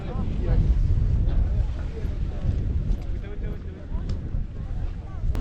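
Wind blows steadily on a sunny mountain ski slope, a continuous loud rumbling buffet across the microphone with gusty swells and no break.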